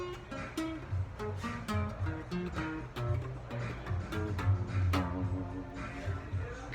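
Guitar plays a descending scale in a repeating rhythm of two sixteenth notes and an eighth note, each pluck clear and steady and heard alone at moderate volume.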